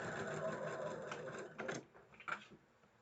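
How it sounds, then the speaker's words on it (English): A sewing machine stitching fabric hums quietly in a short burst, followed by a few soft clicks and handling sounds, faint and close. "I can just keep sewing."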